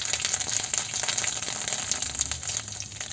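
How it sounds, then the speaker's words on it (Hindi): Jakhiya seeds tempering in hot mustard oil for a Pahari fanu, a steady close sizzle and crackle that runs evenly throughout with no talking. "तो हम इसमें तड़का डालेंगे जख्या"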